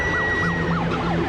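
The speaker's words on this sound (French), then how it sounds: "We require ambulance" An emergency vehicle siren wails close and loud in a rapid rising-and-falling yelp, repeating steadily over street noise, at a bomb scene on Russell Street in Melbourne.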